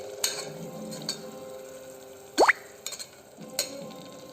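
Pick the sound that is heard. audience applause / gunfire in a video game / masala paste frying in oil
masala paste frying in oil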